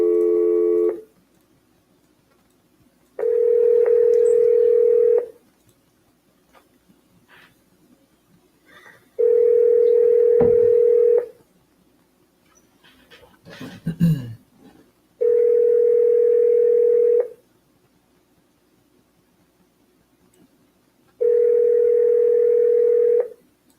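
Telephone ringback tone on an outgoing cold call, four long steady buzzing rings evenly spaced by silences, with a brief faint clatter between the second and third rings.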